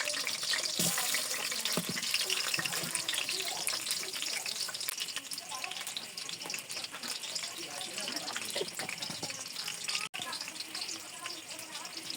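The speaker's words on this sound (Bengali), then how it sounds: "আলু কটা একটু ভাজে নেব।" Potato pieces fry in oil in a pan in a village kitchen, giving a steady, soft sizzle and crackle throughout, with occasional stirring clinks close by.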